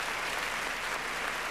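Dense, steady applause from a pageant audience in an arena as a contestant departs the stage, a full wash of clapping sustained evenly throughout without any voices.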